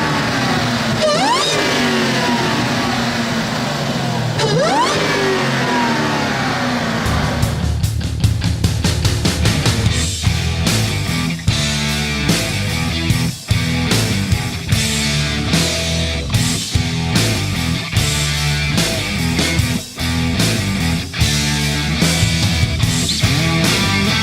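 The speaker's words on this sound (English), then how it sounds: "let me get the induction noise too" A 2015 Dodge Challenger SRT Hellcat engine revs up hard and repeatedly, loud and close, with a rushing intake roar surging and dropping between throttle blips.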